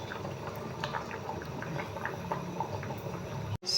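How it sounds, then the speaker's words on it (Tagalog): Mung bean stew, sautéed with garlic, onion and pork, simmers in a pot with soft, continuous bubbling and popping, heard up close and quiet, ending in a brief clatter. "Yan ang ating munggo, kumukulo-kulo na."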